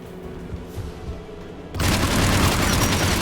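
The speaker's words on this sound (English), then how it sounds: "AA guns ahead." Anti-aircraft guns in the Mass Effect 3 video game open up suddenly halfway through, a dense, loud barrage of booming fire that continues to the end after a quieter start.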